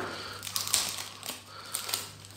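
Someone cuts open an Amazon package holding an Emob 5x5x5 cube, making close crinkling, crunching cardboard and plastic sounds in short bursts with no talking.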